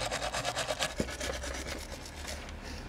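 Electrical connections, cleaned with contact cleaner, are rubbed back and forth in quick rhythmic strokes that make a close, scratchy rasping, about a dozen strokes fading toward the end, with no voices.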